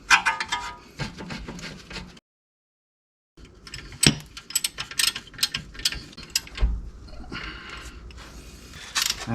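A hand ratchet drives a 16mm bolt home on a car's brake caliper carrier, giving close, loud bursts of rapid pawl clicks that break off for a moment of silence, then resume in uneven runs with metallic knocks and no voices.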